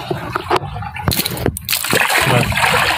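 Water splashes and sloshes in short bursts while a rabbit is bathed in hot, rainy weather, with a few close splatters and a steady wet rustle underneath.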